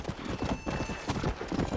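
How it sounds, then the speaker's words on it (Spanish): Horse hooves clip-clop in a quick, steady galloping rhythm in the Red Dead Redemption video game, loud and close over a busy rumbling game background. "Este caballo se le acaba rapidísimo la estamina"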